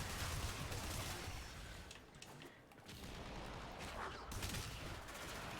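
Boltor Incarnon automatic rifle in Warframe firing rapid sustained bursts, loud and dense, with a short lull midway before the fire resumes.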